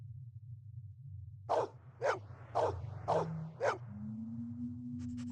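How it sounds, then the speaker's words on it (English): A dog in the Blade Runner video game barks five times in a steady rhythm over a low droning background hum, followed by a rising electronic tone. "Good doggy. Who's the best dog in the whole world?"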